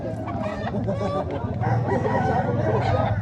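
Several roosters crow and chickens cluck together in a noisy, crowded barnyard at a poultry expo in Consolacion, Cebu, with people talking nearby.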